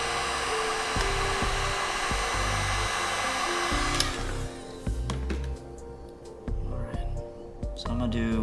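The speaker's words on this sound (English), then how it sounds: "then I take the heat gun and I just hope that silicone react just a little bit more" A heat gun blows a steady loud whoosh over an acrylic paint pour with silicone added, starting and stopping several times, with someone talking over the blowing.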